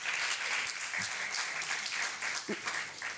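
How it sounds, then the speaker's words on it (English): Conference audience at a Pan-African conference on girls' and women's education applauding a panelist, a steady spread of many hands clapping at moderate distance, fairly even throughout with no talk over it. "Et j'invite l'Assemblée à l'accueillir encore une fois avec vos applaudissements."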